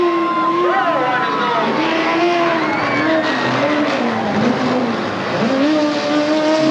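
Chevrolet Camaro race car number 606, running nose heavy, drives with its engine note rising and falling continuously, loud and close throughout.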